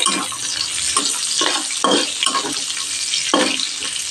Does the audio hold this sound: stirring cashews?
yes